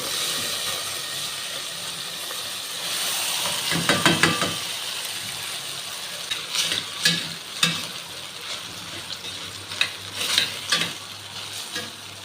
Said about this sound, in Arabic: نحط بقى حته زبده كده، شويه زيت، هنزل كده بالمكرونه